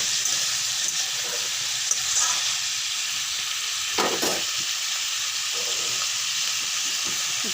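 Chunks of papaya and a medium potato fry in a pan with a steady, bright sizzle, close and continuous, broken by a few clattering stirs of a spatula.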